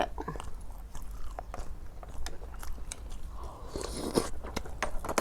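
Close, wet chewing and biting of rice eaten with a mushroom curry, steady mouth sounds with small crunches and scrapes throughout, no talking.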